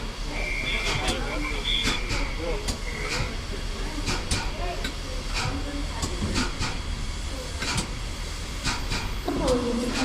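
Steam locomotive standing at a station platform on the Kennet line, giving a continuous loud hiss of steam with sharp bursts, while people talk nearby.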